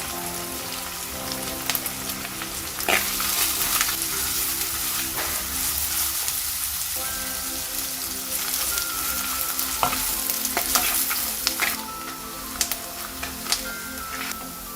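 Onions and dried red chilies frying in a pan for a chicken pepper fry, a steady close sizzle with occasional stirring scrapes and crackles running throughout, no voices.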